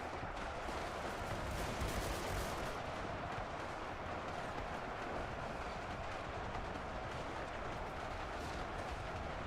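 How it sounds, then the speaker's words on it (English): Musket gunfire in the Ultimate Epic Battle Simulator 2 battle game, heard as a continuous, faint, distant rumble of many overlapping shots with no speech. "Look how far away the muskets are shooting compared to the SMGs."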